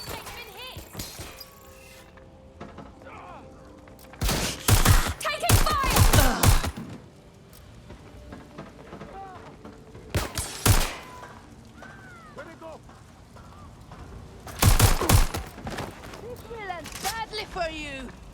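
Watch Dogs Legion combat with loud, clustered gunshot bursts and shattering impacts arriving in three separate volleys, with quieter stretches and scattered game voices between them.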